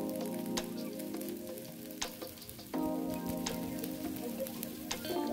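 Carrot kuzhi paniyaram frying in oil in a paddu pan, a steady close sizzle with soft crackles and occasional sharper pops, no talking.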